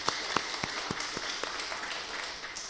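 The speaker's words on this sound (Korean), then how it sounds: "우리 한번 박수 한번 해주실까요?" A church congregation gives scattered, fairly faint applause at a revival service, with a few sharp individual claps standing out irregularly over a steady wash.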